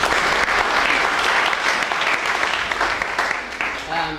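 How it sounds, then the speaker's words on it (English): Steady applause from a crowd, sustained clapping throughout that tapers slightly at the end. "Yeah, we should clap for everyone."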